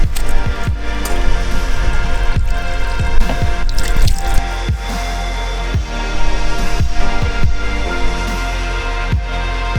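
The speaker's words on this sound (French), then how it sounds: "Et après il faut passer à la douche." Shower water rinses a seawater-soaked FPV drone: a loud, close, continuous splashing spray with irregular drips and wet impacts running throughout.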